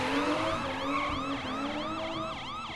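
An emergency siren wails in a fast, repeating up-and-down pattern, loud and steady over a low traffic rumble.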